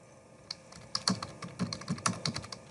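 Quick, uneven keystrokes on a computer keyboard while a view name is typed into architectural plan software, close and fairly crisp with no talking.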